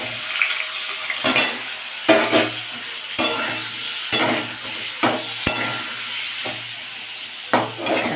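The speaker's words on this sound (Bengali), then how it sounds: "তেলে প্রথমেই যেটা করব, আমি এই কাঁচা টমেটোটাকে হালকা করে ভেজে নেব।" Green tomatoes lightly frying in oil, a soft continuous sizzle broken by repeated scraping and stirring strokes of a spatula at irregular intervals, close by and without speech.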